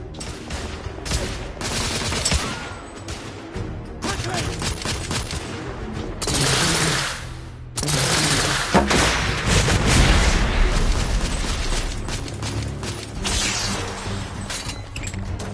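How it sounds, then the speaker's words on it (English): Sustained suppressive gunfire in a console action game, with dense rapid shots and bursts of heavy booms rolling on without pause, loud and close, with occasional shouted voices underneath. "Lay down suppressive fire!"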